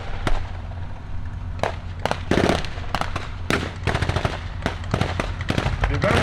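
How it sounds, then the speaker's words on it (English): Gunfire at a WW2 battle reenactment at Tank Fest 2025: loud, rapid bursts of machine-gun fire and sharp single shots crack in irregular clusters over a rumbling outdoor background, with rounds landing on a mock village. "Right, there are rounds coming down on the village."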